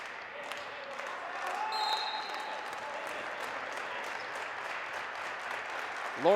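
A crowd at a men's college volleyball match claps in a steady, rhythmic beat under a commentator's voice, with a squeak of shoes on the court and a short whistle-like tone, ending on a louder burst.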